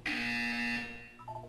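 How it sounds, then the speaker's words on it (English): In the video game Portal 2, a loud buzzer sounds once for most of a second, a harsh steady electronic tone that stops abruptly and is followed by a brief softer tone. "When you hear the buzzer, look down at the floor."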